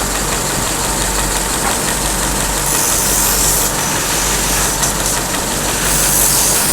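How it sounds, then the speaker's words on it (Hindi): Steady motor hum at a spoon polishing workshop, loud and continuous with a low drone and hissy upper noise, with no speech over it. "ये पॉलिश का अड्डा है, मोटर लगी हुई है"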